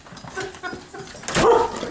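Several dogs bark and yip in short bursts, close by, while visitors are in the house, with a louder whimpering yelp near the end and people talking faintly underneath.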